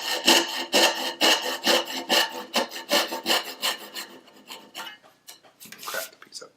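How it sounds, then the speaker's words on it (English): A hand saw cutting a curve in wood for a dovetail joint, a rhythmic series of rasping strokes, close and clear, slowing and growing softer toward the end. "Do the same thing on the other end. I saw in the curve."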